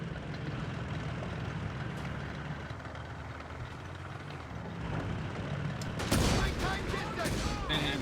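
Anti-tank rifle fire in Company of Heroes 3, in a desert battle between the German Afrika Korps and British forces: sharp cracks over a dense, rumbling battle din, with a sudden louder burst of shots near the end and a voice talking over it.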